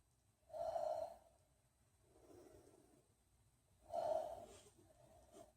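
Deep, slow breathing during a beginner yoga shoulder stretch: two strong, close breaths a few seconds apart, each with a softer, airy follow-up breath, in a quiet room.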